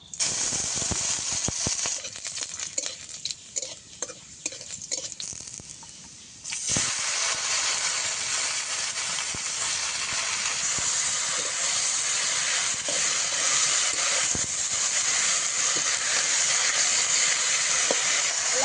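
Garlic frying in hot oil in a wok while a pumpkin-leaf curry is being cooked, a steady loud broadband sizzle with scattered clicks and pops, crackling sharply rising after a brief quieter spell.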